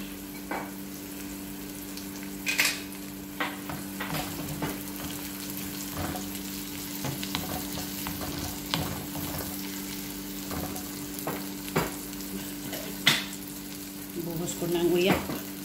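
Onions fry in a pan while being stirred for a shrimp paste sauté, with a quiet steady sizzle and scattered scraping knocks of the utensil against the pan, plus a low steady hum underneath.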